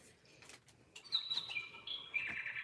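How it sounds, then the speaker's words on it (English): A pet bird chirps indoors, giving quick, fairly close tweets that build into a sustained high trill after a few soft knocks and rustles. "Someone needs to tell my bird it can take the weekend off."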